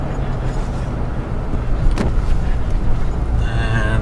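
A 5.7-liter Toyota Tundra CrewMax pickup with an equalizer hitch pulls away from a stop sign towing a Jayco 26BH travel trailer, its steady engine and road rumble loud and close throughout, with no talk.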